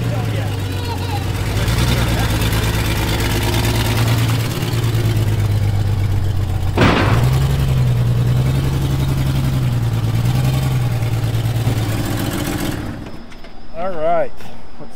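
A car engine idles with a low, steady rumble and rises in a couple of short revs, close and loud, with people talking over it before it quietens at the end.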